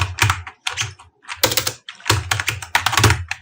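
Typing on a computer keyboard while setting Bangla and English fonts in MS Word, close and crisp, with bursts of rapid key clicks separated by short pauses and no speech.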